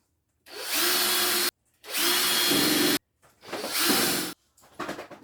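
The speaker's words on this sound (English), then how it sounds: "I'm going to put a few pilot holes right in from the top one into the second one" A power drill boring pilot holes through clamped wooden planter boards, heard as three loud whirring bursts of about a second each with short gaps between, the last one rougher and followed by scattered knocks.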